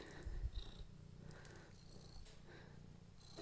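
A small white cat purrs while being scratched, a quiet, close, rhythmic rumble in soft repeated pulses, with no talking.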